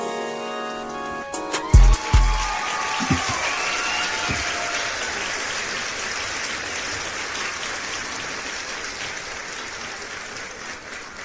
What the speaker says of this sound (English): Okay, cheering.